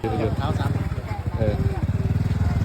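A tractor engine chugs in quick, even pulses during a ride in rural Laos, a rough mid-pitched putter heard close by, with people talking over it for the whole ride.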